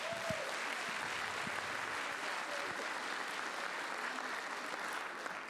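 An audience at a stand-up comedy show applauds steadily, a dense continuous clapping held at an even level from start to finish, fairly soft and heard from a slight distance.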